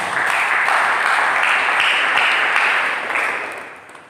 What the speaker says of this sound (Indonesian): Berikan tepuk tangan.